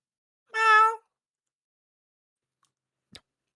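A person imitates a cat with a single short, clear, tonal meow, followed by silence and a faint click.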